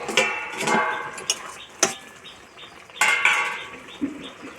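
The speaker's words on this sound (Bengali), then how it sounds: "এবার আমি ঢাকাটা খুলে দেব।" A lid lifted off a pot of pumpkin simmering on the stove gives a few sharp metallic clanks and scrapes, close and fairly loud, separated by short pauses.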